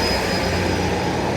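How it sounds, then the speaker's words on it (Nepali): An old, worn red train rumbling along the rails, a steady loud close drone with a faint high whine over it. "अनि फाइनली झरियो होइन आजको यो थोत्रै रेड ट्रेन रहेछ है"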